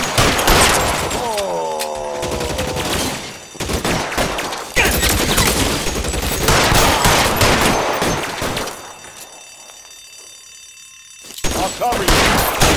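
Gunfire in the LA Noire video game, dense bursts of shots with whistling ricochets and crashes, loud and close, with a quieter lull near the end before firing resumes.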